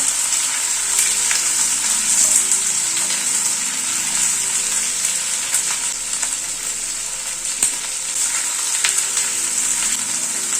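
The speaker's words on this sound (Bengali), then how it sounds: "গ্যাসের ফ্লেমটাকে হাইতে রেখে পেঁয়াজ আর ক্যাপসিকামটাকে হালকা করে টস করে নেব।" Diced onion and capsicum fry on a high gas flame, a loud, constant sizzle with occasional light clicks as the vegetables are tossed in the pan.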